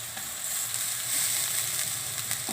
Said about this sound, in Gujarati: હવે આપણે આ બટેટા છે એ નાખી દેવું.